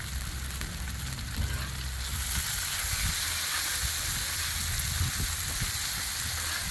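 Chicken thighs sear on a Blackstone griddle with a steady, close sizzle that crackles and pops throughout and swells a little louder after the first couple of seconds, with no voices.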